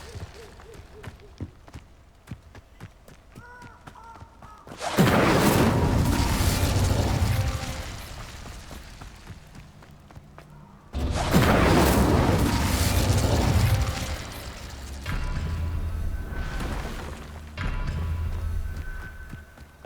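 Hogwarts Legacy's Incendio fire spell erupts in two loud, broad whooshing bursts, each roaring on for several seconds with crackling tails, separated by a quieter stretch of game sounds.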